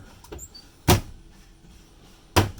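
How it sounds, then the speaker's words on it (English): Two sharp, solid clacks about a second and a half apart, like a small cabinet door being pushed shut and latching, close by in a quiet 30-foot RV. "All these cabinet doors latch."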